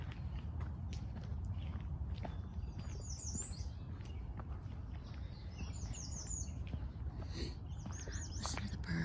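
Faint birdsong with scattered chirps and trills over a quiet outdoor rumble at a lakeside state park campground, with soft footsteps and low voices underneath.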